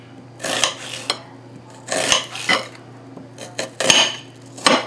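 A knife slices food on a plate while making stuffed salmon, producing a run of close, bright metallic scrapes and clinks of cutlery on the dish in uneven bursts.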